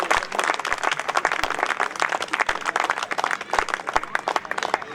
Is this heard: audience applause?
yes